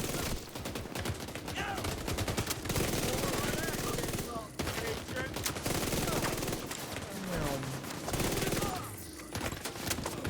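A Vector submachine gun fires rapid, sustained automatic bursts in the video game The Division 2, loud and close with short gaps between strings of shots, over a busy combat backdrop.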